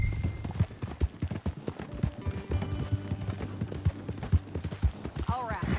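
Horse hooves clip-clop at a steady trotting rhythm while riding in Red Dead Redemption 2, crisp repeated thuds close up under a voice speaking, with brief gunfire-like cracks in the mix.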